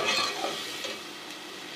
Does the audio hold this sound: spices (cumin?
yes